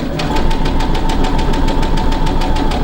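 Sewing machine running a straight stitch along a traced line on a Teddy fabric headband, a steady loud mechanical whir with rapid, even needle knocks repeating throughout.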